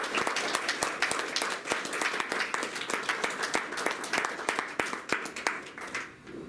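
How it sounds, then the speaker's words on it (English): An audience at a PhD defense seminar applauds, with a dense round of hand clapping that stays steady and fairly close before tapering off near the end. "let's give Maggie another round of applause."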